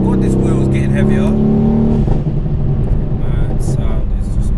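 A tuned 625 bhp Mercedes C63 S revs hard under acceleration, its loud engine and exhaust rising in a strong, close roar before dropping away, with people talking over it.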